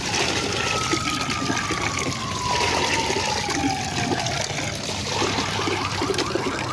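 Water pours steadily from a container onto garden plants, a continuous close trickling and splashing that runs unbroken throughout with no talk over it.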